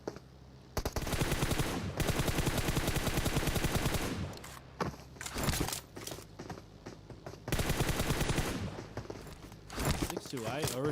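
Rapid bursts of gunfire in a PUBG Mobile esports match, with machine-gun volleys running in long, dense stretches and shorter gaps between, loud and continuous under a commentator's speech.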